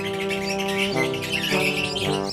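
Lovebird chirping in a steady run of bright, harmonic-rich calls with a few pitch shifts, close and fairly loud, with no talking.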